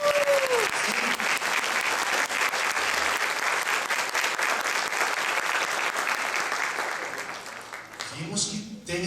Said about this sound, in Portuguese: Mulherada, vamos bater uma salva de palmas para eles?